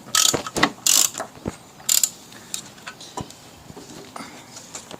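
Ratcheting wrench tightening the top spring mount while lowering an Abarth on Neuspeed springs: bursts of quick clicking ratchet strokes, loudest early on, then fainter intermittent clicks and taps, close by and with no talking.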